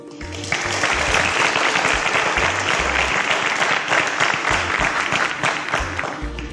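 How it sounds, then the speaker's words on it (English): A studio audience at a televised quiz show breaks into sustained applause, swelling quickly and holding steady for several seconds, with low thumping beats running underneath. "A round of applause for William Scheele"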